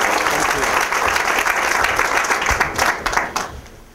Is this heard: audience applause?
yes